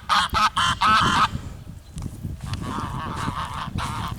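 Ducks calling loudly at a beach, a burst of several close honking quacks in quick succession followed by rougher, continuing calls over wind and surf noise.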